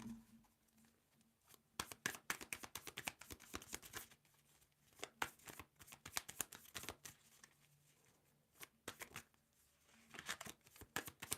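Tarot cards shuffled by hand in a quiet room: bursts of crisp riffling and flicking come and go, with pauses between and faint low background hum.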